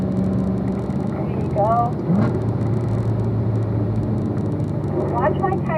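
A car engine drones loudly on a race track, powering down the straight up to fourth gear, its pitch climbing in brief rises beneath near continuous talk from the driver.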